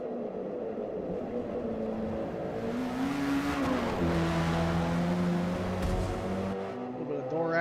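Race cars, a Nissan and Mazda field at Mount Panorama, accelerate hard at the restart, a loud sustained engine roar with rising and falling revs and gear changes, close and continuous.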